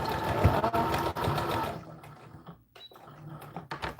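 A sewing machine reverse-stitches across the bodice of an American Girl doll dress, whirring in one dense, close run that stops after a couple of seconds, leaving quiet handling noises.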